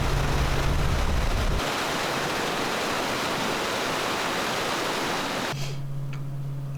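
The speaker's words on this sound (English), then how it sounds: "Seven Falls was a bust, so let's try Helen Hunt Falls." Helen Hunt Falls roars as a steady, dense rush of falling water close by, a continuous broadband wash that stays loud throughout with no voices over it.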